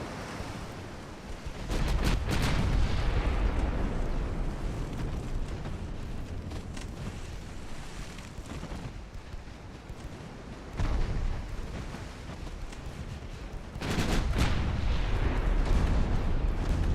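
Naval cruiser gunfire in a battle video game: heavy booming salvos land around two and fourteen seconds and again near eleven, with a deep rumbling sea-battle bed in between and no talk.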